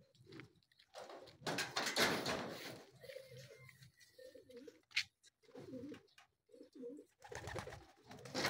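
Racing pigeons arriving during a hard-race derby at Batangas Port, with several soft, close coos in short rhythmic bursts between louder rustling and bumping sounds.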